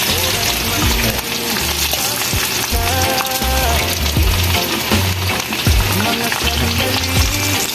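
Loud, steady sizzling of spotted dove frying in hot oil fills the scene, with occasional clinks of a utensil and people talking under it.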